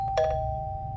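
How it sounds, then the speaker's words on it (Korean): A two-tone electronic doorbell chime rings once, clear and close, then its steady tone holds and fades over a low background hum in a quiet indoor setting. "현관에서 초인종이 울렸다."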